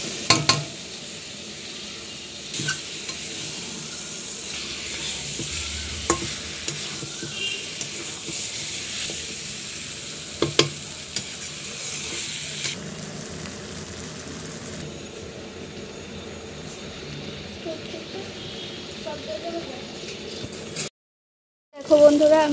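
Fried chicken pieces sizzling in a pan of spiced masala gravy as they are stirred, a continuous hiss with scattered scrapes and clacks of the spoon, fairly close, ending in a brief silent gap.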